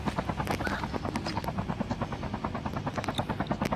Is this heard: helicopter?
yes